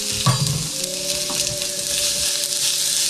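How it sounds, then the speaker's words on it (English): Salted onions sizzle in a little hot oil over medium heat, a close, steady crackle with a brief louder splash of contact at the start. There is no talking. "Once it's hot, put your onions, salt to them"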